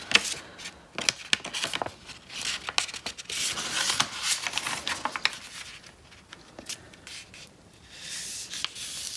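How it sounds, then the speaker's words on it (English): Paper strips of a woven paper bookmark are folded in half, giving close, dry rubbing and crinkling with sharp crisp creases and taps scattered irregularly throughout, no voices. "You want to fold it exactly in half so that each strip aligns with the strip on the other side."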